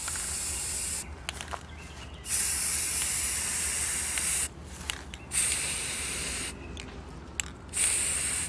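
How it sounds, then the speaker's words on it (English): Aerosol spray paint hissing onto a football-themed TV tray table, in three long steady bursts separated by short pauses with faint background noise, close and loud, with no voices. "then spray some and let it dry"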